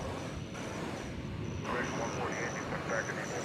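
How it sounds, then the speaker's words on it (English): An airliner landing at DFW Airport at night: a broad, steady jet roar that swells partway through and stays loud, with faint voices underneath. "Right after this plane lands"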